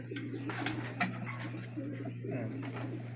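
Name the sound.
racing pigeons cooing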